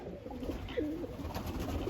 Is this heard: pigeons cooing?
yes